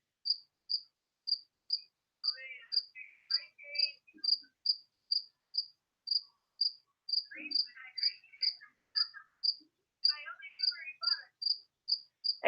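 An indoor cricket chirps in a steady, evenly spaced series of sharp pulses, while someone talks quietly in several short stretches.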